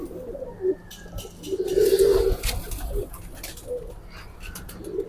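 Several golden, teddy and kamagar pigeons coo close by in soft, repeated throaty bursts, with the strongest stretch in the middle, against quiet room noise.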